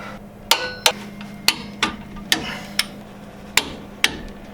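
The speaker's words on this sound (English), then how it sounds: "I am applying 37 pound-feet of torque to the upper bolts, 57 pound-feet of torque to this lower bolt." Sharp metallic clicks from a torque wrench tightening shock bolts on a Jeep, about eight crisp ticks at an uneven pace over a low steady hum, close and fairly loud with no talking.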